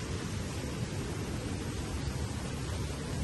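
Water running steadily through a natural spring on an island in San Jorge, Samar, making a broad, even rush that holds at a constant level from start to finish, with no voices.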